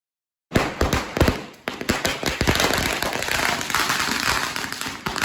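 Strings of firecrackers burst in front of a house during a Diwali-style celebration: a rapid, loud, crackling barrage of pops and bangs that starts suddenly and carries on without a break.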